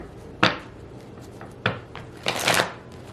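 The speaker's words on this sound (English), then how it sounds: "I said that was the last time I shuffle." Tarot cards are shuffled by hand in a few short, crisp bursts of riffling and tapping, close and clear, with no talk.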